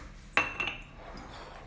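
A spoon clinks sharply against a bowl while stirring bread uthappam batter, with one bright strike followed by a couple of softer taps in a quiet room.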